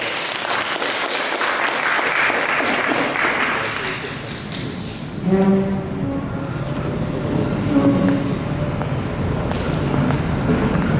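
Audience applause at a technology incubator program event on stage, a steady broadband clapping wash filling the room, with a brief louder swell midway and faint voices under it.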